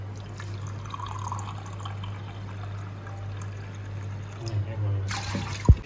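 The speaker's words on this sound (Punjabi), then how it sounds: "ਆ ਕੱਚ ਦੀ ਗਲਾਸੀ ਲੈ ਲਈਏ ਇਹ ਚ ਪਾਣੀ ਭਰਦੇ ਆ" Water fills a glass tumbler from an RO purifier, a faint, steady trickle over a constant low hum, with a brief clatter near the end.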